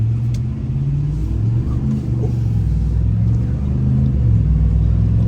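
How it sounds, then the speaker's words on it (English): Deep engine rumble from a Ram 1500 Laramie Sport pickup truck doing a burnout, steady and loud, with a rising rev as the tires slip; no clear tire squeal stands out. "A bit of a burnout there, a little bit of a tire slip."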